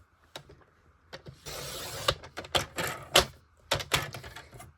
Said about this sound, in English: I think I need to trim one little piece.